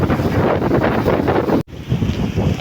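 Strong wind buffets the microphone in a loud, gusty roar, cutting out abruptly for a moment before the blustery noise returns.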